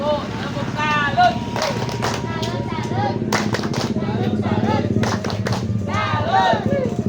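Women at a community gathering perform a rhythmic clapping routine, sharp group claps in a patterned beat mixed with chanting and voices talking throughout.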